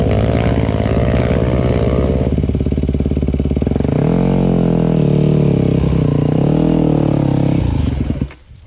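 A Hurricane 150 enduro motorcycle revs hard on a difficult trail, its engine loud and close, buzzing at steady high revs, then dropping and surging through several throttle blips before cutting off abruptly near the end.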